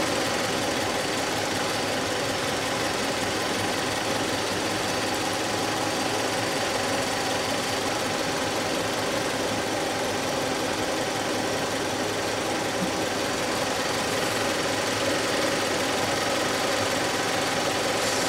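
A warmed-up Toyota Noah 3S-FE engine from around 2000 idles steadily at close range, giving a constant mechanical hum with a light ticking clatter. It runs alone without any talk.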